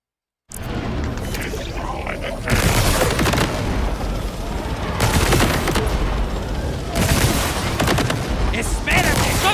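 Sustained gunfire in the shooter game Borderlands 4, set among icy mountain peaks, with dense bursts of rapid shots and heavy booms layered loudly and continuously after a brief silent start.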